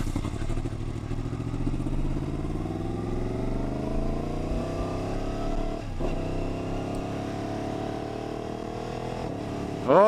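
A 2020 Yamaha MT-10 motorcycle engine with a quick shifter revs up repeatedly as it rides, pitch climbing then dropping with each quick gear shift, steady and close throughout.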